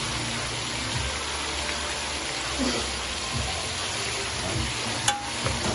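Oxtail pieces sizzle loudly in a hot pan as they are flipped, with a continuous close frying hiss and occasional scraping stirs throughout.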